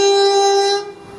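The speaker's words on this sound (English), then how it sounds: "Now about to pass straight through platform 2 at Cheddington, which is your 1423 1 Uniform 30 London Midland service and Crewe to London Euston" A London Midland passenger service from Crewe to London Euston passes straight through platform 2 at Cheddington station, a loud sustained horn-like tone ringing out steadily before dropping away as the train passes.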